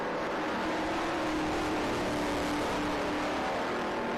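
Classic racing cars, including a Triumph TR3 chasing an MG Midget, roar past on a circuit in a steady, loud, continuous engine drone with a faint tonal whine and no voices.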